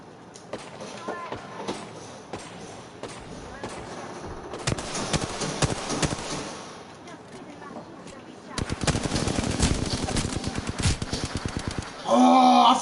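Rapid automatic gunfire in the video game Apex Legends, bursts of sharp shots that grow denser and louder toward the end, under game music and effects with a voice speaking over it.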